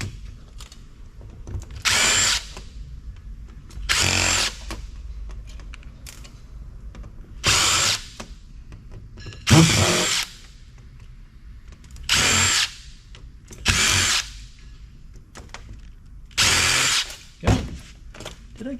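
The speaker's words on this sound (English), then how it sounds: "get these screws off the back here" A power drill spins screws out of the back panel of a piece of telecom equipment in about eight short, loud whirring bursts separated by quiet pauses, close up, with no talking.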